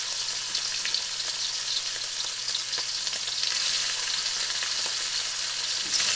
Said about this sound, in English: So in with our shrimp, and just turn that down a little bit so it's not too hot.